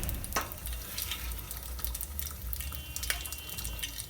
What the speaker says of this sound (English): I open one of these small cartons of coconut milk and I pour it in there